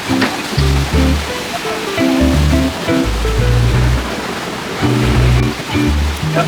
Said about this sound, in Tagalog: Sa sobrang taas ang alon, ang layo ng inaabot.